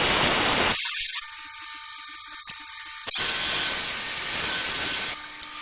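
A wood spindle turning on a lathe is sanded with 100 grit sandpaper, making a loud, steady broadband hiss. The hiss drops out for a couple of seconds, leaving faint mechanical clicking, and then resumes.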